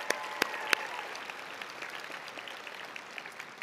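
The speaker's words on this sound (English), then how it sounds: "We're just giving them a round of applause," A crowd at a state science and technology fair awards ceremony applauds with steady, dense clapping, a few sharp louder claps standing out at the start before it settles into an even patter.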